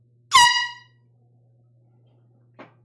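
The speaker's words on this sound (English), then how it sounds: "Air horn, here we go." A loud air horn blasts once at a live vinyl record sale, a bright harmonic tone fading over about half a second, followed by a much shorter, fainter honk after a pause over a low steady hum.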